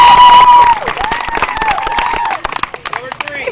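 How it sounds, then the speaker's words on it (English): At a softball trophy presentation, a crowd claps and cheers loudly at first, then the applause thins into scattered claps and shouts while a voice speaks over it. "Y'all clap, okay?"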